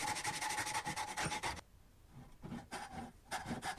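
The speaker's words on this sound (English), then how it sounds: "I then grab my tinion saw, and here I saw all the way down to the shoulder line." Tenon saw cutting down through wood to the shoulder line of a hand-cut tenon, a rhythmic rasping of back-and-forth strokes, close and loud, pausing briefly midway before resuming.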